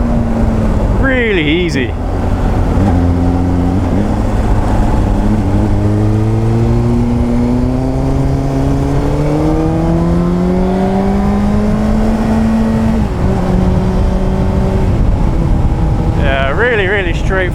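Honda CBR600 motorcycle engine revving up through clutchless gear changes, a loud rising whine that dips briefly at each shift, close by with a voice speaking over it.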